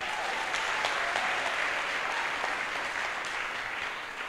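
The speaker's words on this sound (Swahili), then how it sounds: "Situmpigie makofi." A church congregation claps together in a steady, dense wash of applause that holds evenly for several seconds, then fades slightly toward the end, with no voices standing out.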